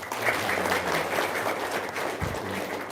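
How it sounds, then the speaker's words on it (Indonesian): Steady applause from an audience at an Indonesian religious talk, continuous and fairly dense through the whole stretch with a low murmur underneath. "Tepuk tangan dulu dong"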